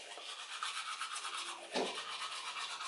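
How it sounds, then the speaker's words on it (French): A toothbrush scrubs teeth close up in a steady rhythmic swish, with a brief louder scrape near the end, and no one speaking. "je vais me brosser les dents."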